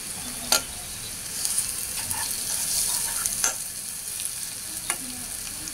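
Beef liver frying in a pan with bay leaves, a steady soft sizzle with occasional sharp clicks of a utensil against the pan, close and alone.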